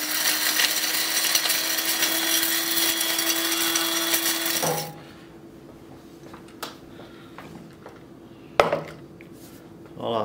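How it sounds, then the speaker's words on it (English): Coffee grinder whirring loudly as it pulverizes toasted spices for a hot pork curry, a steady broadband roar with a constant hum lasting about five seconds before cutting off, followed by quieter clinks and a sharp knock. "So I'll put the toasted spices into the coffee grinder."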